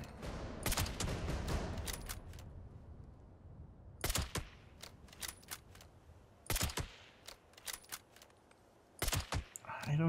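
Gunfire in Fallout 76, sharp shots and short bursts spaced every couple of seconds over a quiet background, with someone talking in between.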